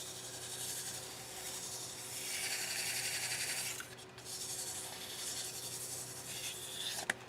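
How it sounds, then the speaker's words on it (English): Fine 600 and 1000 grit sandpaper rubbed over a razor stand, a soft continuous rasping hiss in steady strokes, close and quiet, with a brief pause midway. "And start doing the finish of the sanding."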